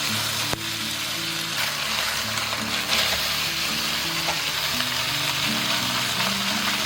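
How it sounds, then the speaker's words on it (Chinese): Pork neck meat pan-frying in oil in a smoking-hot iron wok, a steady crackling sizzle with occasional stirring clatter, heard up close over a low background hum and no talking. "让它煎得干香。"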